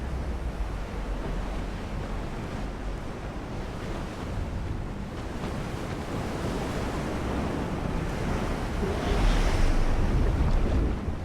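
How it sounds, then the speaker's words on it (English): Water rushes and churns in a dense, steady roar that swells slightly louder toward the end, with no voices: water flooding into a sinking battleship in Ultimate Admiral: Dreadnoughts. "You can hear the water rushing in."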